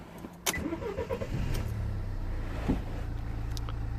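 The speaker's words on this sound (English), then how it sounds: "let me start the engine" A 2015 Toyota Avensis with an airbag warning fault being started in a workshop: a sharp crank and catch, then the engine settles into a steady low idle close by, with no talk.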